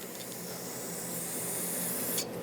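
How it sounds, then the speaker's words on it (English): Brake parts cleaner hisses from an aerosol can onto a Subaru Forester front brake in one continuous close spray that cuts off sharply at the end. "We're going to rinse it off with brake parts cleaner"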